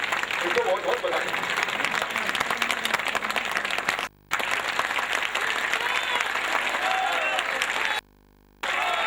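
A meeting audience at an annual general election assembly applauds steadily and loudly, with dense sustained clapping that drops out briefly twice.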